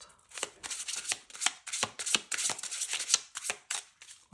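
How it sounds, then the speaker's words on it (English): Tarot cards being shuffled by hand, a dense run of quick papery riffles and soft slaps repeating steadily and close up, with no talking over it. "Oh my gosh, I shuffled that a few times."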